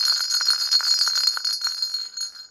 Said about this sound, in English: Jingle bells are round. Listen, listen to their sound.